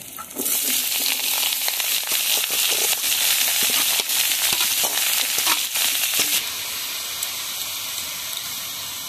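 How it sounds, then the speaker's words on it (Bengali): Chopped ash gourd poured into a pan of lightly fried onion and garlic, setting off a loud, crackling sizzle right away that continues strongly, then eases to a quieter steady hiss near the end. "পেঁয়াজ রসুন হালকা ভেজে নিয়েছি, চাল কুমড়োটা ঢেলে দেব।"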